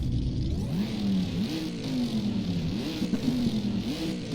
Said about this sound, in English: Angry V8 noises.